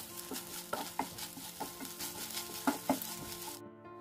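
Noodles with soy sauce and chilli sauce are stirred in a pan, giving a soft sizzle under several distinct clinks and scrapes of the utensil against the pan, fairly quiet and close, with no talking.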